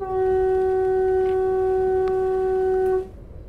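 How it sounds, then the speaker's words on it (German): A train horn in the Zusi 3 train simulator game gives one steady, loud, sustained blast of about three seconds with a bright harmonic tone, then cuts off abruptly. "Ich werde mal hupen."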